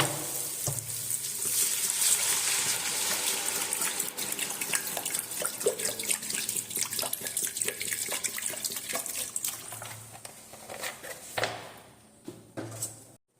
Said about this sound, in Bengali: নেক্সট অ্যাড করবো আমি ওয়াটার